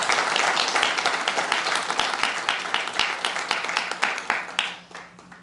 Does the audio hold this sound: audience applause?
yes